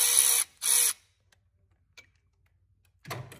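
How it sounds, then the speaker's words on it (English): A Milwaukee power ratchet works a nut off the negative wire bolted to the block of a 7.3 Powerstroke engine: two short, close whirring bursts, a quiet pause with faint ticks, then a third burst starting. "I'm using my little Milwaukee ratchet on this one"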